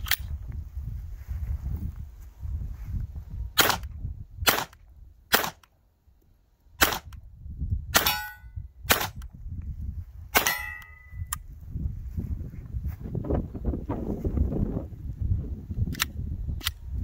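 A Sig Sauer P322 pistol fires Winchester ammunition in a series of sharp single shots with uneven gaps between them, loud and close, over background outdoor noise.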